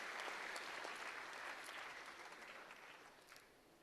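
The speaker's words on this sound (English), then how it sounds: "Please welcome him with a round of applause." An audience at a university orientation program for first-year students claps in a steady burst of applause that welcomes a speaker, then gradually thins and fades toward the end.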